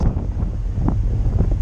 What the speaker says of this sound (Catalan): I perdó pel vent, perquè aquí també fa vent